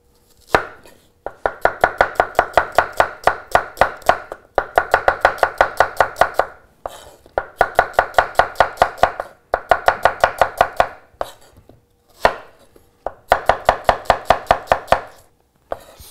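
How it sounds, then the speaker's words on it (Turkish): A knife julienne-cuts onions on a board, the cutting loud and close. Quick, regular chops run in bursts of several seconds with short pauses between them, and no voices are heard. "Soğanları jülyen kesiyoruz."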